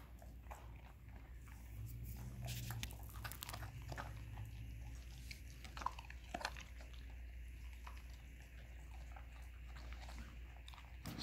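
A pet dog chewing broccoli, with faint crunching and wet bites recurring close by against a quiet background.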